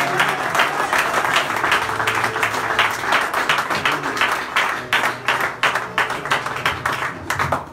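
A church congregation claps and cheers during a Sunday service, dense rhythmic applause filling the room, loud and close, with crowd voices mixed into the clapping.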